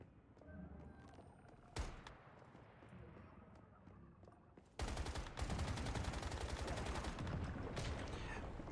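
Gunfire in the survival shooter Once Human on a hard mode server: a single sharp shot, then a dense, loud stretch of rapid automatic fire from midway on, with voices over the top.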